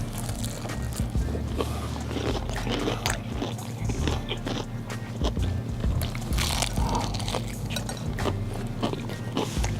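Close, crisp crunching as someone bites into and chews crunchy buttermilk fried chicken, repeated bites and chews over a low background hum.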